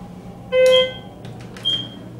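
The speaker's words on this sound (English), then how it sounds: "Sounds like a little fire alarm there." A Schindler elevator alarm at a Hilton Garden Inn in El Paso, Texas, gives two short electronic beeps a second apart, the first louder and longer, the second brief, in an otherwise quiet space.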